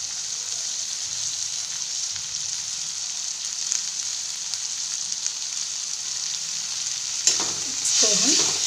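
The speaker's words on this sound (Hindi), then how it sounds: "चला देते हैं अच्छे तरीके से, मिला देते हैं" Steady hiss of vegetables with boiled drumstick (moringa) leaves frying in a pan, with occasional scraping as they are stirred, close up and without talk.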